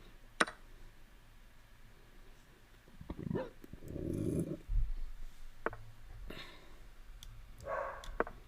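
A dog growls with a low, rough rumble lasting about two seconds mid-clip, set among a few sharp clicks and taps in an otherwise quiet room with no talking.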